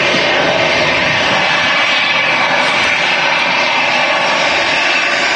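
An EasyJet Airbus A320 airliner at Manchester Airport gives a loud, unbroken jet-engine roar, a dense steady rush close by without pause.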